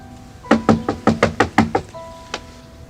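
Someone knocks on a closed door from outside: a quick series of about seven firm raps, then a pause and one last knock, loud and close, with no talking.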